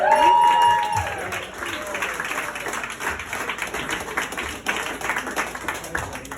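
A comedy club audience claps and applauds at a stand-up set, a burst of clapping that starts strong and settles into a steady patter, with a voice talking over the crowd.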